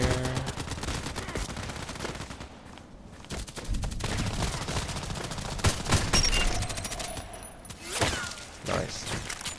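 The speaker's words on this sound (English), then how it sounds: "Bullets in the air." HK417 rifle gunfire in a video game, rapid bursts of sharp shots with pauses between volleys, fairly distant and moderately loud, with sparse voices under it.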